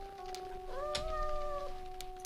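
Cat meowing in the 1993 Interplay video game Star Trek: Judgment Rites, a single drawn-out rising-and-falling meow heard clearly over a steady electronic hum.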